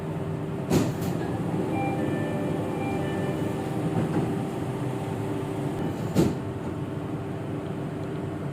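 A Jakarta MRT train runs between stations with a steady rumble and rail hum, broken by a few short clanks and thumps along the track.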